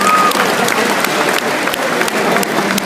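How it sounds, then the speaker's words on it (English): Loud, sustained applause from a crowd, with a brief whistle near the start and scattered louder claps. "Round of applause for that one."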